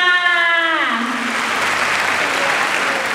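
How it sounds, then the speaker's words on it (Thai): An audience applauds at a new-student orientation at a Thai university, with a brief tonal voice at the start giving way to loud, sustained, dense clapping that fills the rest of the clip. "ขอเสียงปรบมืออีกครั้งหนึงค่ะ"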